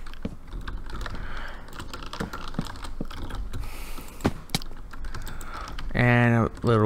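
Rapid, continuous clatter of typing on a computer keyboard, close and steady, with a brief hum of a voice near the end.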